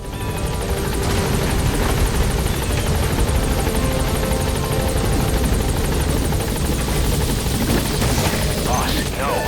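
An extraction helicopter in Metal Gear Solid 5 thunders close by, its rotor chopping loudly and continuously while a voice speaks over the din.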